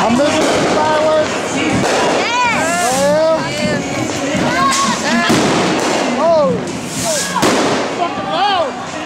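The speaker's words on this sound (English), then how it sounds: "I'm missing the fireworks." New Year's Eve fireworks in the Philippines, with loud bursts, crackling and whistling rockets going off densely throughout, close and far at once, under a noisy crowd and people talking.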